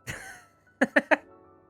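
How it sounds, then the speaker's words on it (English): One rough cough, a short pause, then three quick coughs in a row, close and fairly quiet. "Cough."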